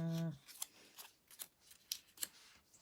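Scissors cut out paper pieces for a craft, giving several sharp, close snips at irregular intervals after a brief tone at the start, with no voices.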